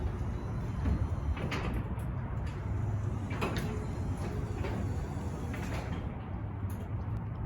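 A garage door being pulled down to the halfway point, heard as a steady rolling, rumbling slide with scattered clicks and rattles from the track throughout.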